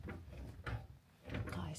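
A stuck, locked sliding door rattles and clunks in two close bursts as someone struggles with it, with quiet room noise in between.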